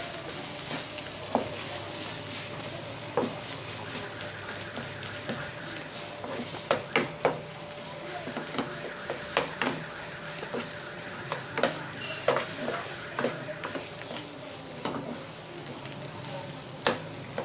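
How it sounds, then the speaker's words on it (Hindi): Spiced potato paratha filling with chicken powder, salt, crushed coriander and turmeric being mixed by hand, giving soft scattered stirring and scraping taps over a faint steady background hiss, no talking. "अब इन तमाम चीज़ों को बहुत अच्छी तरह मिक्स कर लेंगे।"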